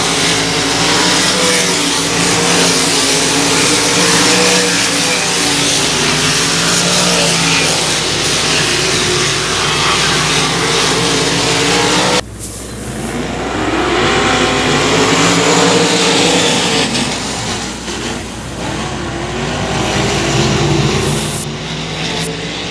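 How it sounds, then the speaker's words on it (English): Race cars at Boyd Raceway roar loudly and continuously through a lap, engine noise sustained at close range with a brief dip midway as cars pass, then the roar resumes. "This time out of turn number four, one more lap for Claude Estes"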